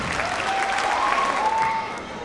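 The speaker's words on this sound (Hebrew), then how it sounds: "קבלו אותן במחיאות כפיים" Audience applause for a competitive gymnastics team at a 2019 gymnastics show: sustained, dense clapping from a crowd at even loudness, with a tonal hum or whistle under it in the middle.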